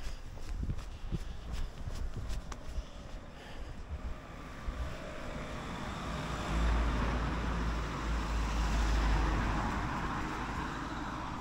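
A car drives past on the road over a river bridge at La Roque-sur-Cèze, its broad rumble swelling louder in the second half over steady wind and rushing water, with no talk.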